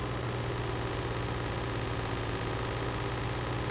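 An old manual-gear tractor in Farming Simulator 22, running in first gear through a potato field, drones with a steady, loud engine hum and a low continuous rumble, unchanging throughout.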